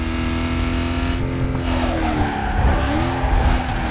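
A Ford Mustang GT drifts in the racing game Need for Speed Carbon, its engine droning steadily while the tires squeal and skid loudly in a long, continuous slide, with no talk.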